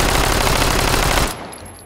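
An open-bolt Agram 2000 firing in the H3VR game: a loud, rapid burst of automatic fire that lasts just over a second, then cuts off into a short quiet tail.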